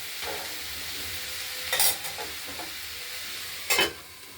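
Cabbage curry with potato, peas and tomato is stirred in a pan, giving a steady low sizzle with two short scraping bursts of the spoon against the metal near 1.8 and 3.8 seconds.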